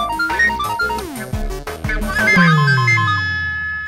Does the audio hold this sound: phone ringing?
yes